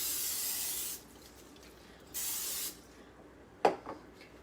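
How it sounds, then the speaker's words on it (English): Oil spritzer spraying an air fryer tray in a home kitchen, two sustained hissing bursts of about a second and half a second, then a sharp clack and a softer knock. "Now, I'm going to have to make sure I spray it real good."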